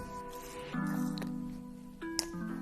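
Two squirts of cleaning solution from a 4-ounce bottle go into a bowl of water while sneakers are being prepped for cleaning, heard as soft, brief squishy spurts close by in a quiet room.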